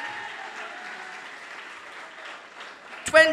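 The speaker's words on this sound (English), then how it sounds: "Give him a rousing round of applause there for me." A convention audience applauds an introduced dignitary at a political party's 47th annual convention: soft, distant-sounding clapping with a voice talking over it, and a sharper, louder sound near the end.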